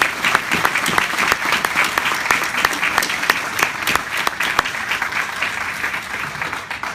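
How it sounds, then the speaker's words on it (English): Loud, sustained applause from a large audience at an Air Force ROTC commencement ceremony, many hands clapping densely with sharp individual claps standing out throughout. "ask you to join me in a round of applause"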